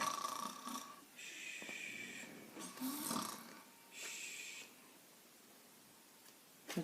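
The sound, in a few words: voice imitating snoring during a bedtime story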